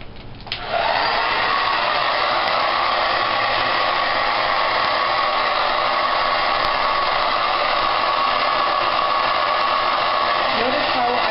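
A hair dryer switches on and roars in a loud, steady whoosh while short hair is blow-dried with a round brush, the airflow staying constant throughout.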